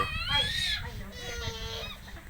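Chickens clucking and calling in short, uneven bursts, fairly close and fairly loud, with other farmyard noise around them.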